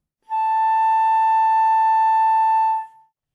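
A flute plays a single sustained A natural in the second octave, one clear steady tone held for about two and a half seconds before tapering off, close and alone.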